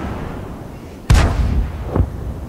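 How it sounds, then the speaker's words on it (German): Tank cannon fire in an online tank battle video game: one loud, sharp close blast followed a second later by a fainter, more distant shot over low ambient rumble. "Schöner Schuss, sauber."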